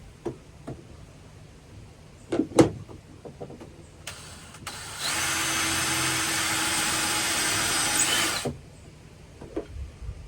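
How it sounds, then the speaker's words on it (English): A power drill bores a pilot hole into a narrowboat fireplace surround, a loud steady whir lasting about four seconds, preceded by scattered knocks and taps. "I'm just going through with a pilot hole basically to mark out the best place for it"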